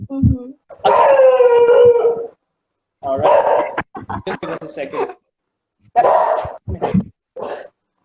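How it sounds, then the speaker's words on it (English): Dogs in a neighbouring flat bark and howl, with a long drawn-out howl early on and shorter bursts afterward, mixed with people talking nearby. "There are dogs in my neighbor's flat as well, so every time they step out, there is an action."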